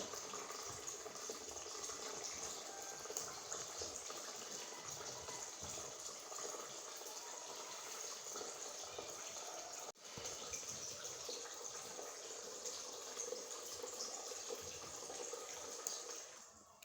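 An Arduino-controlled water pump fills a reservoir with a steady, faint rushing and trickling of water and a low pump hum, continuous with a brief dip midway.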